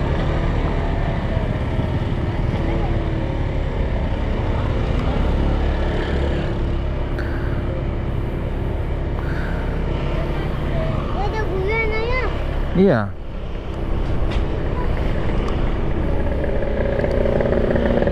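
Riding a motorcycle through congested Bukittinggi streets in West Sumatra during Lebaran, with a continuous engine and wind roar, surrounding traffic, brief speech from riders, and a short warbling tone midway before the drone resumes.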